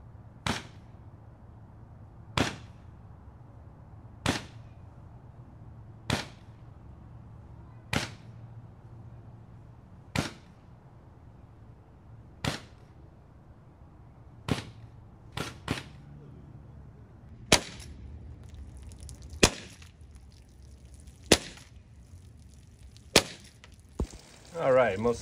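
A Vigilante air pistol fires Hornet .177 pellets through a chronograph, heard as about fourteen sharp, snappy cracks spaced a second or two apart, with faint clatter and noise in the quieter gaps between shots.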